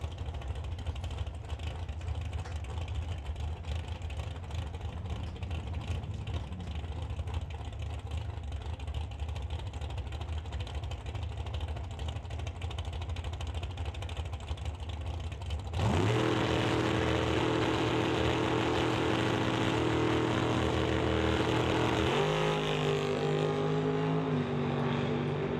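A Duster drag car idles with a low rumble, then launches from the handicap start at a drag strip with a sudden loud engine roar that holds high and shifts pitch partway through, with no talk.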